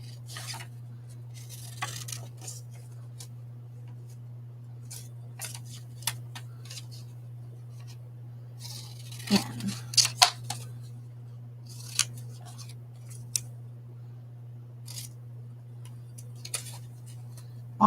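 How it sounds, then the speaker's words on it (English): Scissors snipping through glossy magazine pages at close range, a string of short sharp cuts spread unevenly over a steady low hum, with a brief cluster of snips near the middle and no talking. "Okay, so now it's down to scissors."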